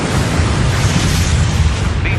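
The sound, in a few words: explosion destroying ZSU-23-4 anti-aircraft vehicles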